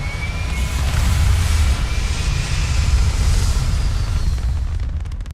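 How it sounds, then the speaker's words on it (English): A spaceship lifting off in the video game Starfield, a loud, sustained rumbling thrust roar with heavy low-end energy that holds steady for several seconds before cutting off abruptly. "We have a clean liftoff."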